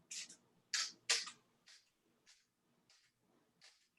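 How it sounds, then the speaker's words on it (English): Short hissing bursts from a chunky spray bottle misting water onto watercolor paper, three strong spritzes close together near the start, then several softer, fainter puffs spaced out in a quiet room. "I'm going to just try a little bit of spray on it and see if I can get it to diffuse a little bit."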